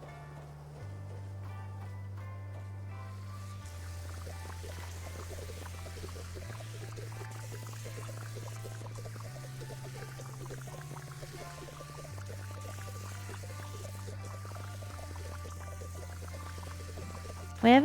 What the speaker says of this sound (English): We're gonna have to fill up our water really quick too.